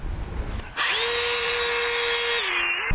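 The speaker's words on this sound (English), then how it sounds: "I'm all done with the polishing step and that little crazy headlight polisher" A small headlight polisher whirs on a Corvette's Lexan targa top, starting up abruptly after a quiet moment and then running at a steady high-pitched electric whine until the end.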